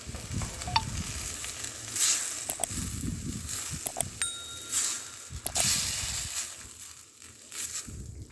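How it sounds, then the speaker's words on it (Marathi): Brinjal sautéing with spices in a pan over a wood-fired stove, a close sizzle broken by repeated scraping and clattering stirs of a spatula, with no voices. "मसाले मिक्स करून घेतल्यानंतर ह्यामध्ये वांगं घालायचे आणि ते चांगलं परतवून घ्यायचे"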